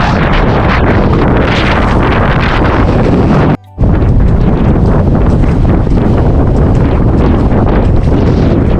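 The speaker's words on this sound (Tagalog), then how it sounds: "So ayun po, mahangin po" Loud, roaring wind buffets the microphone nonstop at a fishing spot, a dense rumbling gust broken only by a brief dropout partway through.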